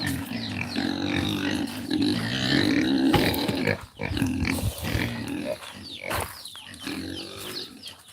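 Pigs on a farm grunt and squeal in a dense, continuous chorus, loud and close, with a brief lull near the middle before the snorting resumes.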